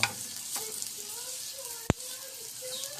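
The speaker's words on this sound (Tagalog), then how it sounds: "saka natin ibuhos yung binating itlog" Beaten egg poured into a pan over fried hotdog, a soft sizzle with a few scraping stirs and one sharp click midway, fairly quiet and close, without speech.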